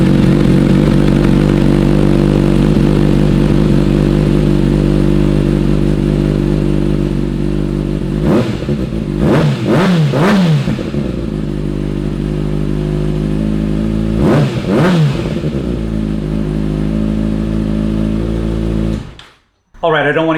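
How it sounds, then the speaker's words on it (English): A motorcycle with a Yoshimura Alpha slip-on exhaust idles loudly nearby, with two clusters of sharp throttle blips breaking the steady burble midway before the engine cuts off near the end. "let's go ahead and fire up the bike"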